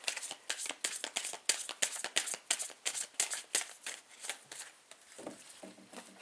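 Tarot cards being shuffled and drawn by hand, a quick series of crisp riffling, slapping bursts in a close, quiet room, easing into softer card handling near the end.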